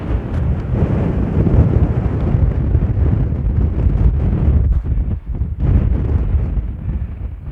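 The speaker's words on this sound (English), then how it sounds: "It's windy today, as you can probably hear." Strong wind at a hilltop standing stone on Canna Island, Scotland, buffets the microphone in a loud, continuous roar with brief gusty dips, drowning out everything else.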